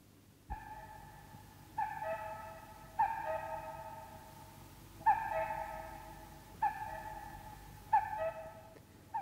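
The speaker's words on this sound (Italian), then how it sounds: "Verso del cuculo." A cuckoo calls in clear two-note falling phrases, repeated about six times at an uneven pace. The calls are soft and sound somewhat distant over a quiet background.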